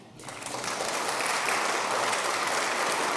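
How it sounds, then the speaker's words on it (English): Audience applause during a live-streamed talk at a synagogue, swelling up from quiet in the first half-second into a steady, broad clapping from a crowd that holds for the rest of the clip. "You can clap for that."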